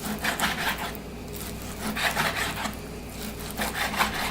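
A knife saws through bacon on a cutting board for macaroni and cheese, making close, steady rasping strokes in a continuous back-and-forth rhythm with brief pauses and no voices.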